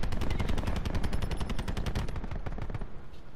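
Rapid automatic AK rifle fire in the video game Black Ops 4, a loud, dense burst of closely spaced shots running continuously for several seconds and easing slightly toward the end.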